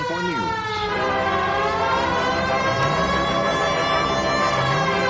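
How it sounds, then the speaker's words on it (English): A police car siren in the 2011 video game L.A. Noire wails loud and steady throughout, its rising and falling tones layered over low engine rumble. "Cole, turn on the siren and pull her over"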